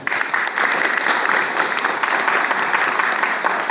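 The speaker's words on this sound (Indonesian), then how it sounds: "Kita beri aplaus buat beliau." A crowd applauds at an Indonesian political gathering, with dense, even clapping that holds steady throughout and no voices standing out.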